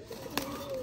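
A Sialkot breed pigeon gives a short, soft coo close by, with a low murmuring tone and a slight scratchy sound partway through, heard alone for under a second.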